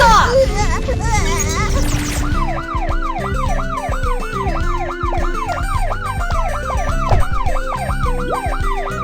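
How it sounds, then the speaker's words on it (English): Cartoon fire truck siren from the BabyBus kids' game, a wailing, repeating up-and-down tone with steady rhythm, preceded by brief bright game chimes and a spoken voice at the start. "Firefighter Kiki sets off!"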